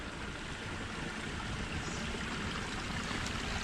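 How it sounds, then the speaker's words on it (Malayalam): A forest stream on a jungle route near Nelliyampathy flows with a steady, unbroken rush of water, with no talking. "ഈ നമുക്ക് തോടിൻ്റെ സൗണ്ട് കേൾക്കുന്നല്ലോ"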